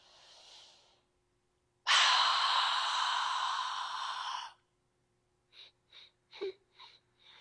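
Slow breaths during a yoga breathing exercise: a soft exhale, then a long, loud, forceful breath out lasting several seconds, followed by a series of short, quick puffs of air, all close and without talk.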